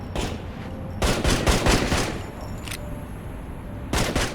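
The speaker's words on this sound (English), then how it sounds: "A lot of shooting in this one." Rapid bursts of automatic gunfire in the mobile shooter game Gangstar Vegas, dense rattling volleys in several close, loud clusters separated by short gaps of background game noise.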